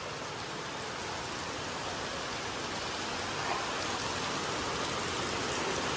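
Heavy monsoon rain falling steadily, a dense even hiss of drops on surfaces that holds at the same level throughout with no talk.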